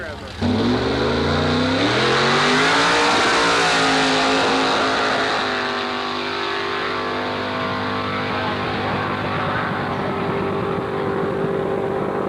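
An antique drag racing car roars down the strip at Carlsbad Raceway, its loud engine sweeping upward through the gears and then holding a harsh, rough-sounding high drone at speed, with an announcer faintly audible beneath.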